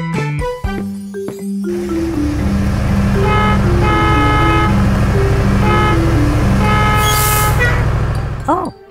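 Cartoon bus honking repeatedly in rhythmic bursts of a tonal horn over a loud rumbling engine, close and insistent, ending with a rising squeal.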